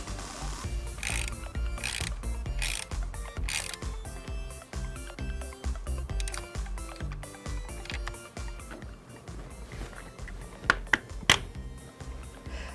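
A ratchet tightens the battery terminal fastener on a 2017 Subaru Forester, clicking rapidly and steadily at close range, then a few sharp knocks sound near the end, with no talking.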